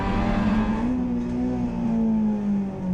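An onboard race car engine at a circuit race with a Honda Civic and a Holden Commodore battling, giving a continuous loud drone with a slowly shifting pitch, near and without talk.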